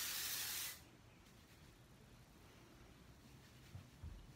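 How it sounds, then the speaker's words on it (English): Oribe dry texture spray hisses onto hair in a single close, loud burst lasting under a second, followed by quiet room noise with faint handling sounds. "So I just lift it up and spray it."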